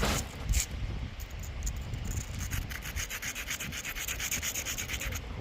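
A knapped flint western stemmed point being ground by hand, a close scratchy rubbing that settles into rapid, rhythmic abrasive strokes, moderately loud with no talk.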